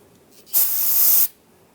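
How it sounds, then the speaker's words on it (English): A single short burst of cleaner sprayed from an aerosol can onto a rag during rear axle bearing and seal work on a 2011-2018 Ram 1500, a sharp close hiss lasting under a second in quiet surroundings. "You can spray some on the rag and then just wipe down the surface area on the differential."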